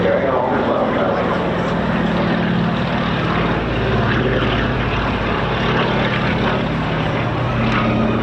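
A propeller aircraft makes its final flypast at the Bournemouth airshow, a continuous loud engine drone and roar. A commentator's voice is heard over the crowd noise and the engine sound.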